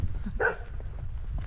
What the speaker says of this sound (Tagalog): May aso pa oh. Nagtatatahol yan oh.